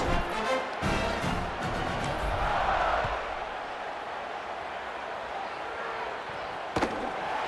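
A large stadium crowd roars in EA Sports College Football 27, a dense, steady wash of cheering that swells early and then holds at a fairly loud level, with a sharp thump near the end.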